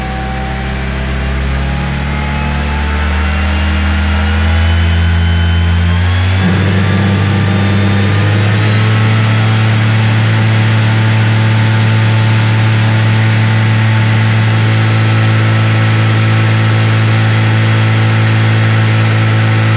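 A car alternator converted into a motor and run by a VESC controller whines loudly and steadily, its pitch stepping up partway through as the speed rises, with a strong drone underneath and no voices.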